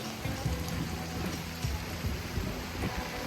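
Rain falls steadily around a temple, a soft, even hiss heard from some distance, with a low mechanical hum running beneath it throughout.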